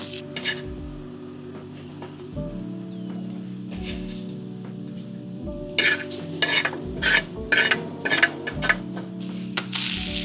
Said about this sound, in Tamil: இப்போ எல்லாத்தையும் நல்லா கிளறிடுவோம்.